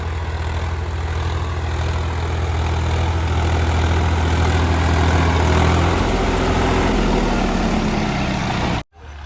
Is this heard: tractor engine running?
yes